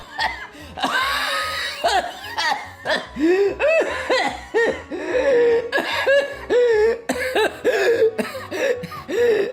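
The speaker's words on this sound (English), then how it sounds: "The coughing means it's working" Repeated bursts of harsh coughing, close and loud, mixed with laughter-like sputters and vocal sounds throughout.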